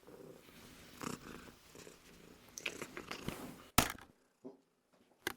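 A cat purrs up close in a low, rumbling rhythm for several seconds, followed by a sharp bump and a few brief soft sounds.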